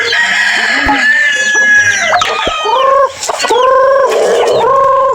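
A rooster crows loudly and repeatedly nearby while several chickens cluck and squawk continuously around it.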